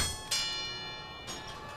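A bell in the video game Contrast rings out with a resonant, sustained tone, struck twice about a second apart and decaying between hits, with no talking.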